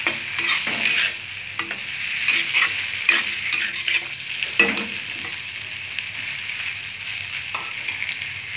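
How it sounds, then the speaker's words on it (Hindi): Boiled potatoes fry and sizzle in a pan for a spring roll filling, with a steady hiss and repeated scraping stir strokes of a spoon against the pan throughout. "आलू को हम पहले इसलिए डाल रहे हैं थोड़ा सा ये सिक जाए"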